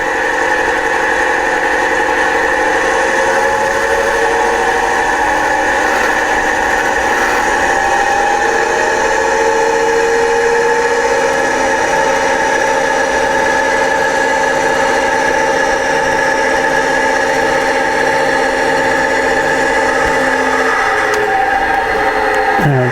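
A model Deltic locomotive's sound unit runs continuously with a loud, steady diesel engine drone and sustained harmonic tones, ending with a brief change as it slows.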